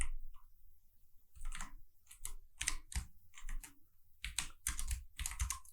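Steady computer-keyboard typing of Kotlin code, close clattering keystrokes in quick uneven bursts separated by short pauses.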